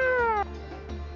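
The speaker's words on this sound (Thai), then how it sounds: "แมวอ่ะ" A cat meows in the video game Brown Dust II; one clear, high, falling meow rings out first, followed by soft game ambience and a faint low tone.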